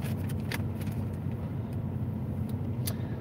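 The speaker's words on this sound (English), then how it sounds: "That truck is pretty loud" A truck rolls past outside with a loud, steady low rumble that fills the whole stretch, with a few faint clicks and rattles on top and no talk.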